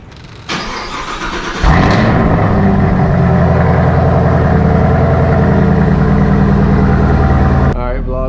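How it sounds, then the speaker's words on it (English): Chevrolet Camaro ZL1 with its stock exhaust doing a cold start: a click, then the starter, then the engine catches with a loud flare and settles into a steady, fast idle close by before cutting off near the end. "And this is gonna be the last stock cold start. Like stock exhaust cold start."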